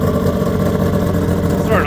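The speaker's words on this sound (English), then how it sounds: "Got the idle set a little high right now." A turbocharged Honda CBX motorcycle engine idles at a raised speed, a steady, close, throbbing drone with even pulses and a brief voice near the end.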